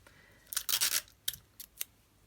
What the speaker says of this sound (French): Je vais mettre un petit scotch ici en haut.